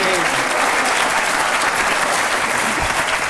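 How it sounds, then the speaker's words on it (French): A French television studio audience applauds, dense and sustained clapping close and loud from start to finish, with a few voices faintly underneath. "On applaudit, on remercie encore madame Cécile Boulard."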